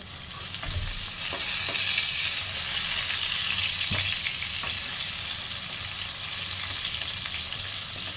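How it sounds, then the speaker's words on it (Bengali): Steady, dense frying sizzle of eggplant in hot oil, continuous and fairly close, with occasional soft clinks and no voices. "বেগুনটা কিন্তু আমার ভাজা হয়ে গেছে"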